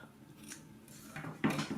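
Scissors snip through knitting yarn on a knitted gnome, a few short close cuts, the last one louder, with no talking.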